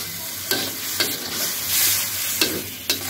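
Potato curry (alu ghati) with fish stirred and frying in a pan: a steady sizzle with four or five sharp spoon scrapes at regular intervals, close up.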